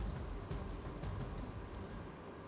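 Heavy rain over waterlogged city roads in Ahmedabad, a dense, steady rushing wash with low rumbling underneath, quiet and continuous with no voices.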